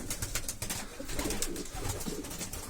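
Posta pigeons coo softly in a backyard coop, low rolling calls close by over a busy background of rustling and scattered clicks.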